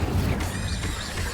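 An Incendio fire spell is cast in the video game Hogwarts Legacy, giving a short, loud burst with a crashing impact and a whooshing, crackling tail.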